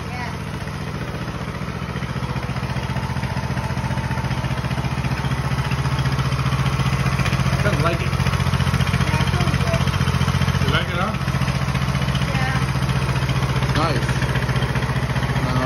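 A Coleman BT200X mini bike engine idles steadily with the choke on, a loud, close, continuous rumbling putter with faint clatter, while voices talk briefly over it.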